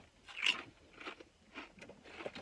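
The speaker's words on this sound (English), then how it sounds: "I eat a chip, then get my score." A close, crisp crunch of biting into an HEB salt and vinegar potato chip, one sharp bite followed by a few quieter chewing crunches in a quiet room.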